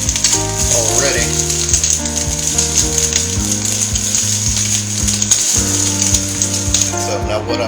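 Meatballs sizzle loudly in a hot pan with constant crackling and popping, while a background tune plays underneath.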